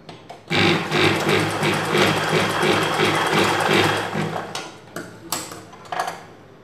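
A sewing machine stitches two pieces of blouse fabric together with a loud, fast, steady mechanical whir for several seconds, then stops, followed by a few short bursts and clicks.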